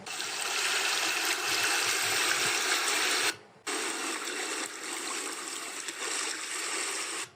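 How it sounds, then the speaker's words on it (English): An ocean wave sound effect plays as a continuous rushing, churning wash of water, briefly dropping out near the midpoint before resuming at a slightly lower level until the end. "So I like that particular ocean wave sound."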